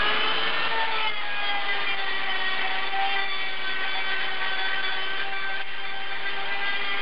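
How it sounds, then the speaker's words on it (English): A die grinder works on cut cast turbo manifold pieces for a 1976 Mazda RX-5 Cosmo, a steady high-pitched whine with grinding rasp that holds near and loud throughout, unbroken by talk. "So I'm just evening it out with the die grinder."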